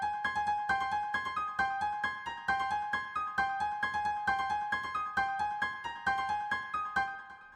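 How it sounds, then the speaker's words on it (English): A bouncy stereo piano melody from an SRX keyboards default patch, steady repeated plucked notes in a brisk rhythm throughout, close and moderately loud with no voices. "I literally just used the default stereo piano and I laid down this melody."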